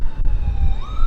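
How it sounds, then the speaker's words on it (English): An ambulance siren wails past a moving car, its steady electronic tone sliding upward near the end over low road and engine rumble, fairly loud and close, with no talking. "Oh, ambulance going by."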